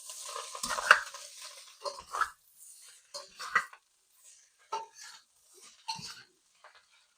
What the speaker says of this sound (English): Hear that sizzling? We're getting moisture out of that rice.